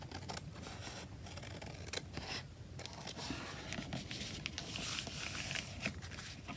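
Scissors snip close up through a paper collage sheet beside a bag, with quick scraping cuts and light rustling in an otherwise quiet room.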